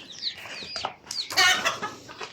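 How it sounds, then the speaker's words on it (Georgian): A hen in a farmyard gives a run of sharp, close clucks and short squawks in uneven bursts, loud and near the microphone, with no one talking. "რა იყო ქათამო?"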